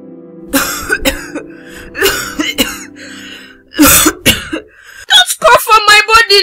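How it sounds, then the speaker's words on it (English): Several sharp coughs and throat-clearing bursts come in clusters, loud and close, with short pauses between them. "Don't cough on my body now."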